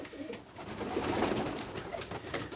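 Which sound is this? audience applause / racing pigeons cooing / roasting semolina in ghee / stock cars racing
racing pigeons cooing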